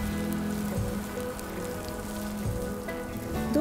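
Carrot, onion and tomato paste fry in a pan, producing a continuous close sizzle with fine crackling that holds steady the whole time, without any speech.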